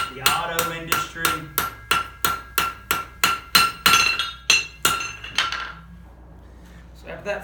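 Hammer striking hot steel on an anvil while forging a leaf, about fourteen sharp ringing metallic blows in a steady rhythm, close and loud, then a pause with a faint tap at the end.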